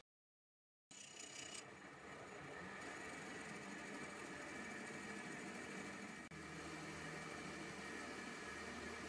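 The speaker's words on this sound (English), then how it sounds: "I'm using the same setup as for the last operation, but with a boring bar to cut from the inside of the rim all the way down to the centre hub here." Lathe with a boring bar cutting the inside of a metal wheel rim toward the centre hub, a continuous faint machine drone with grinding noise that starts abruptly after a moment of silence and runs steadily.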